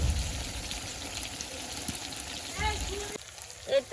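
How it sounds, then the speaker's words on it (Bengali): Chicken cooks in spices and oil in a pan, giving a low, steady sizzle and frying hiss close by, with brief voice sounds near the end. "এই তো যে আমার মাংস কষানো হয়ে গেছে"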